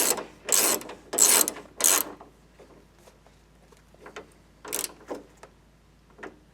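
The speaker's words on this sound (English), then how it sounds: "And then you just bolt it on. This should be a 10mm bolt." A ratchet wrench tightens a 10mm bolt during an engine install, giving short bursts of close, rasping clicks separated by pauses, with quieter clicks and light handling noises between them.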